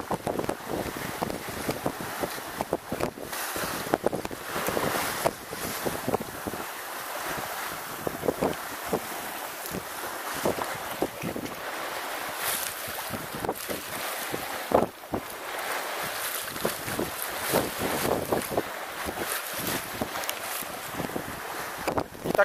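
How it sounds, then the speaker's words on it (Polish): A sailing yacht under way on the Baltic coast between Hel and Władysławowo, with steady wind buffeting the microphone over the constant rush and splash of water along the hull. "jacht płynie szybciej"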